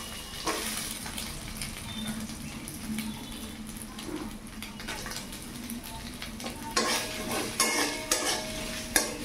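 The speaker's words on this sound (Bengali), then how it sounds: "এবার এই নারকেলগুলো কুচিগুলো একটু হালকা আলতো ভেজে নেব লাল লাল করে।" Coconut flakes frying lightly in a pan with a spoon stirring them, a steady close sizzle with scraping that grows louder and busier toward the end, no voices.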